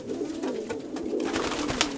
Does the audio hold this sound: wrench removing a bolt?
no